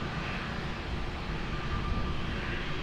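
A plane on its takeoff run at Lisbon Airport on runway 20 makes a broad, steady engine roar. It sounds fairly distant and holds constant, with no speech.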